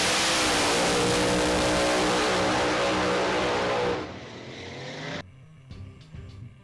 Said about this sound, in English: That car is a true Promod.